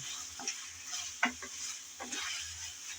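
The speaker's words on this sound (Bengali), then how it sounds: "আমি ঢাকনা দিয়ে ভালোভাবে আলু কষিয়ে নিলাম" Potatoes sauté in a pan for a hilsa fish curry, a soft steady sizzle broken by a few clinking, scraping stirs of a spoon.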